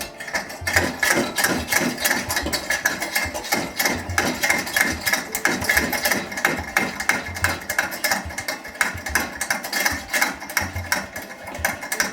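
Coleman lantern pump being taken apart by hand, a dense run of close metallic clicks, ratcheting and scraping rattles that go on continuously and fairly loudly with no talk.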